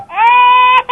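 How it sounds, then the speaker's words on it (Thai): A short, loud electronic baby-cry alert tone from a Vstarcam security camera app on a phone, a single wailing tone that rises then holds, followed by a brief second catch at the end. "เสียงเด็กร้องไห้ก็ได้"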